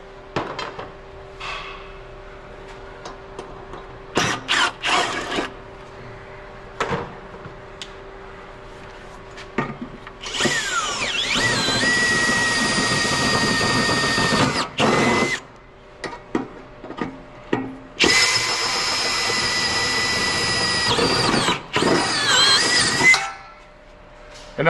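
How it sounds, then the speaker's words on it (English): A power drill bores holes for a Powerstep bracket on a Chevy truck up on a lift, two long whining bursts of drilling separated by a pause, with clanks and taps of tools before and between them. "now I'm just gonna drill those holes."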